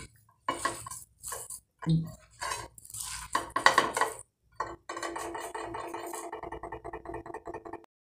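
A spoon works flour and cornflour into chopped vegetables for vegetable Manchurian in a bowl: close, intermittent bursts of scraping, rubbing and clinking strokes separated by short silences, ending in a longer steady stir.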